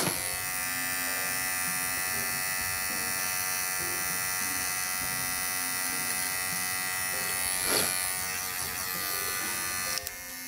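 Wahl 5-in-1 hair clippers fitted with black DLC blades run with a steady, loud electric buzz and whine held throughout, with a brief rise near the end and a small click at the close.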